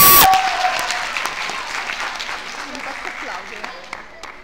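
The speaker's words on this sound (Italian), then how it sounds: "un grande applauso" Audience applause fills a stage venue in Cernusco sul Naviglio after a concert host introduces a maestro, a dense, steady wash of many hands clapping that starts loud right after a brief tone and slowly thins.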